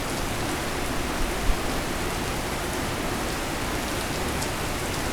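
Heavy rain pours down steadily in a dense, unbroken hiss, loud and close, with no voices.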